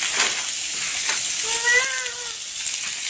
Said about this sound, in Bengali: একটু জাল বাড়িয়ে দেবো সবজিটা বসাবো